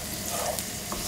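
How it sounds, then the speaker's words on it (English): Steady, close sizzling of chorizo and onions frying in a pan, with a dense crackling hiss and no talking. "Chop it into pieces and add those to your frying onions."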